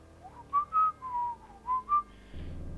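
A person with a cold whistles a short melody of several clear rising and falling notes, fairly close and alone, followed by a burst of broadband noise at the end.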